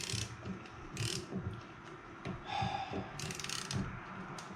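Ratchet wrench winding nuts on a Jaguar independent rear suspension, with a fast rhythmic clicking that runs in repeated bursts and sounds close and fairly quiet.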